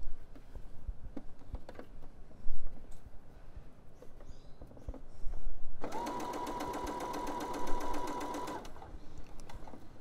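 A sewing machine stitches fold-over elastic onto scoop short knickers, running in one steady, fairly loud burst of about three seconds after a stretch of faint background handling noise.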